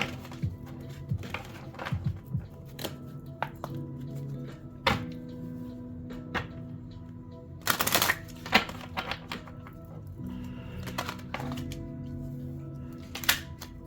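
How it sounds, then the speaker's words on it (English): Tarot cards are shuffled by hand, close up, with crisp riffling snaps and bursts of rapid flutter over a low background hum. "Let me shuffle a little bit more."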